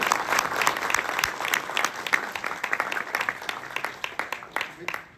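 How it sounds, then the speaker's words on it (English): A crowd applauds at a university event in London, a steady patter of many hands clapping throughout, moderately loud, with a voice audible underneath. "Can we have a round of applause for that?"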